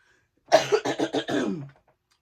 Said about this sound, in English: I hope that doesn't mean I'm going to start having a little bout of coughing.